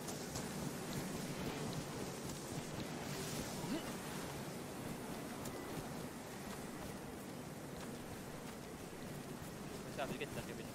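A stormy DayZ game environment on the Takistan map, with a dense continuous roar of rain and wind and low thunder rumbling underneath, loud and unbroken throughout.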